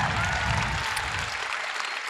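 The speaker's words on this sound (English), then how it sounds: "A smattering of polite applause for lethal injection." A live audience at a true-crime podcast taping gives a short burst of polite applause, a soft, scattered patter of many hands that tapers slightly as it ends.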